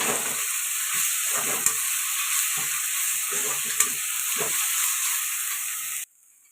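Ginger garlic paste frying in a pan for chicken masala curry, a steady hiss and sizzle with occasional stirring scrapes. It ends abruptly in near silence.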